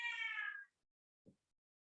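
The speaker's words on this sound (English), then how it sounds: "that is one hell of a meow" A five-month-old cat lets out one loud, drawn-out meow close by, followed by silence and a brief soft low thump.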